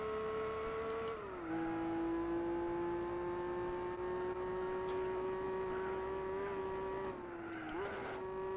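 A car's exhaust in Gran Turismo 4 holding a steady, buzzy, high-pitched drone, dipping in pitch once early and again near the end as revs drop and climb back.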